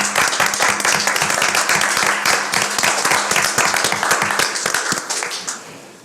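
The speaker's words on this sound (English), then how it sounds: "to all CRC members, a round of applause." Applause at a regular public schools board meeting, the room clapping for CRC members with a steady, moderately loud patter of many hands that tapers off and fades at the end.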